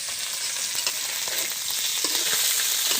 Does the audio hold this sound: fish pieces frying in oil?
yes